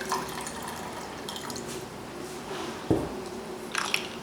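Water is poured into a saucepan, a cup's worth going in for halwa syrup: a continuous trickle and splash, fairly close, with a sharper splash near the end and no talk.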